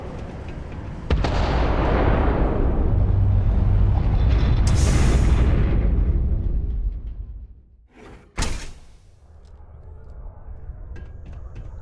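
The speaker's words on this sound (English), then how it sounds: "Detonation occurs in 5, 4, 3, 2, 1." A massive detonation in Starfield booms and rumbles loudly for several seconds, fades with creaking debris, then one sharp crack follows before a low lingering hum.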